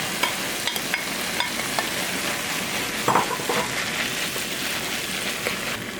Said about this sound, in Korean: 살살살 볶아줍니다.